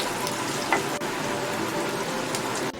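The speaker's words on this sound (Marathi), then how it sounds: "आपण ही सर्व मच्छी आता फ्राय करून घ्यायची आहे" Bangda mackerel fish frying in a pan, a constant dense sizzle and crackle filling the whole stretch, loud and close with no voices.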